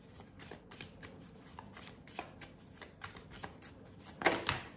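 Tarot cards being drawn and handled from a deck: soft papery flicks and slides in an irregular rhythm, close and quiet, ending in a louder snap of a card near the end.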